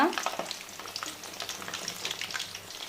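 Andhra-style mirchi bajji, batter-coated chillies, deep frying in hot oil over a medium flame: a dense, steady crackling sizzle that runs close and continuous throughout, with no voices.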